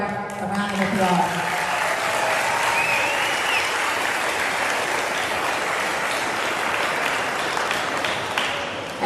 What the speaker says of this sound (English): everybody, give the color guard a round of applause.